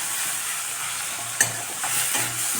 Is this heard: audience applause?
no